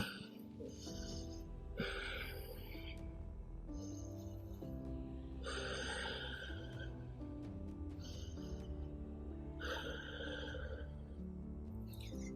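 Slow, deep breaths drawn in and pushed out in a steady rhythm during a yoga pose, close and quiet, over faint background music.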